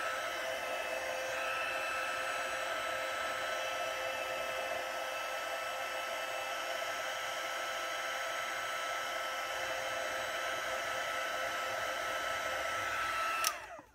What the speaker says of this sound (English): Heat tool. Heat up the back first.